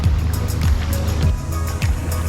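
Water laps and sloshes around a small inflatable boat, with rhythmic low thumps of waves against the hull every half second or so over a constant wash, close and fairly loud.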